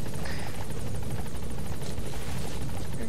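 Helicopter in Metal Gear Solid 5, a loud, close rotor thrum with a fast, steady chop and a constant engine whine running unbroken under nothing else.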